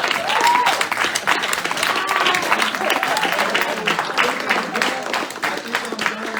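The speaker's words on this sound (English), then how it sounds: "that's you're clapping for yourself" An audience claps after a freestyle rap at a rap, hip-hop and poetry evening, a dense, lively round of applause with a few cheers and voices mixed in.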